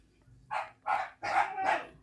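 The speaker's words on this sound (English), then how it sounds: "They just stop barking for absolute no reason." Dogs bark four times in quick succession, a bit distant and moderately loud, each bark short and separate over a quiet background.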